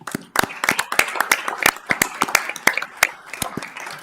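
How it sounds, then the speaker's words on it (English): Sparse applause in a city commission meeting for promoted police officers; a small number of people clap in separate, uneven slaps, fairly close, with some murmured voices underneath. "I would just like to give them a round of applause"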